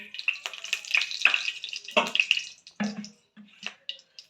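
Hot oil hisses and spits loudly in a wok nearby, coming in irregular bursts that rise and fade.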